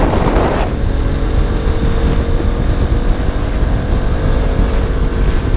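A Bajaj Pulsar RS200 motorcycle rides along a road near Alaçatı, its engine drone buried under heavy, constant wind rush at the microphone, loud and steady throughout.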